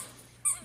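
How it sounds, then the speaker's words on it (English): A dog's squeak toy gives one short, sharp squeak, fairly close and brief, over a quiet room background. "I'm sorry, my dog has squeak toys."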